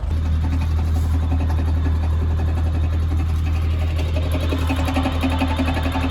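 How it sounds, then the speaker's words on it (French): An irrigation hose reel unwinds on a farm: a steady mechanical whirring and low engine hum drone continuously, with a faint rhythmic rattle as the hose pays out. "Là il est en train de dérouler l'enrouleur."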